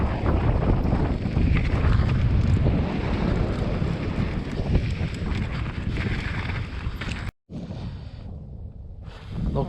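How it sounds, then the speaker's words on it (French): Strong wind buffets the microphone on a mountain bike ride on a singletrack descending from the Col du Granon, a steady roaring rush broken by one brief dropout near the end. "Il y a du vent, hein."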